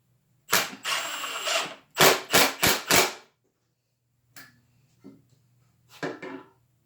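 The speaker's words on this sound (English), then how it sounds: "this is like one of the most difficult to try to drive these square drive number 2 4-inch screws" A Milwaukee M18 brushless impact driver drives square-drive number 2 four-inch screws in several bursts: one long run, then four quick hammering pulses, followed by short, fainter taps and a last brief burst.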